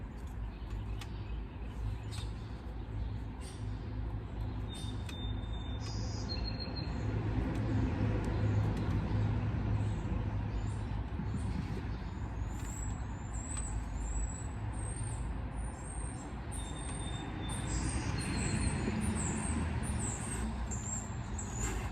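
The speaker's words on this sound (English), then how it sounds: "you can hear the traffic going by too" Street traffic rumbles past continuously, with trucks and buses swelling and fading, a brief air brake hiss, and occasional birds chirping faintly above.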